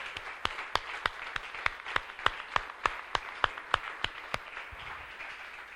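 A church congregation claps during a sermon. A single distinct, evenly spaced clap stands out close by, about three per second, over a soft spread of clapping from the room.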